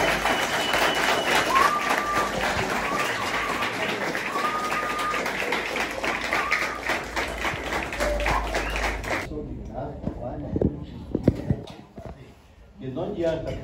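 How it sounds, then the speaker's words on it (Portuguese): An audience at a community sports institute event applauds loudly, with dense sustained clapping that stops abruptly partway through and is followed by quieter scattered sounds. "eu gostaria muito que vocês aplaudissem"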